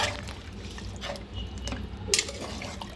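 Water is poured into a pot of mutton curry with drumsticks and cashews, making a steady liquid splash and trickle over a low background hum. Nobody speaks.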